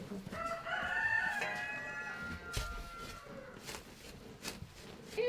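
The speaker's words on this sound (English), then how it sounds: "Here, chicken, chicken, chicken." Farm chickens cluck and a rooster crows nearby in winter, the crow ringing out early over a mix of clucks and scattered sharp knocks.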